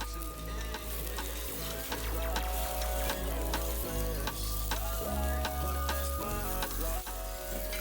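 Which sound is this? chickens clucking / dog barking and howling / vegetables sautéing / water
vegetables sautéing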